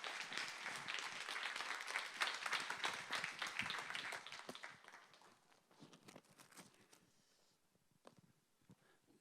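A church congregation applauds to welcome a visiting pastor, dense loud clapping for about five seconds before thinning to scattered claps and fading out.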